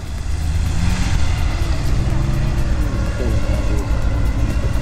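A turbocharged Lada Niva drives a competition course in Orsk, giving a steady, loud engine and road rumble that holds for the whole stretch with no break.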